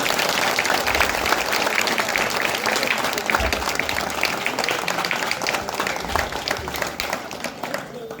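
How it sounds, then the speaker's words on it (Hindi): A crowd at a Muharram event applauds police officials with dense, loud, sustained clapping filling the whole stretch, close and energetic with no pause. "सभी अधिकारियों के लिए एक बार जोर से ताली बजा दीजिए।"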